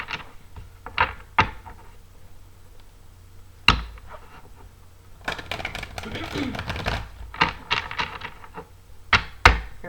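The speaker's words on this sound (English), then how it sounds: "Now I'll shuffle my clarifiers a few more times for the camera." Tarot clarifier cards being shuffled by hand in a quiet room, a few brisk riffling bursts and soft slaps separated by pauses, close and moderately loud.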